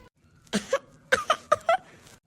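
A sick boy with a fever coughs in a short burst of several quick, faint, hoarse hacks spaced over about two seconds.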